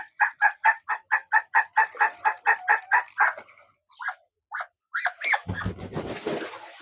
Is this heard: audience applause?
no